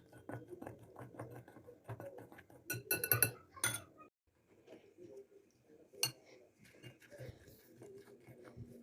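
Flour dough is worked with ghee in a bowl. Quiet, irregular clinks and scrapes against the bowl come in bursts, with a sharper cluster of clatter midway and a faint voice in the background.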